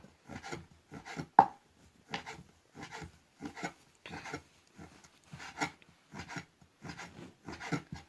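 A knife cuts through rolled homemade erişte noodle dough on a board in a steady series of soft, rhythmic chopping strokes, close and clear, about two per second.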